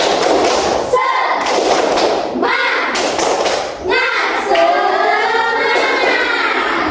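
A classroom group of children claps a rhythmic chant together, with thumping beats and young voices shouting along in bursts, loud and close.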